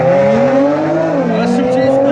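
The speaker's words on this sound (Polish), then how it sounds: "Nissan GTR kontra Lamborghini." Loud, steady roar of a 700 hp Nissan GT-R and a Lamborghini Aventador racing, holding a high pitch, with a brief tire squeal and shifting tones as the cars pass close by.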